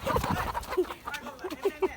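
Layer hens at a poultry farm cluck in short, repeated calls at close range, with faint talk and general barn noise in the background.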